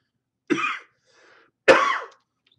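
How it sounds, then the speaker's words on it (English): Two sharp coughs about a second apart, close and fairly loud, with a faint breathy sound between them. "Ninja cough."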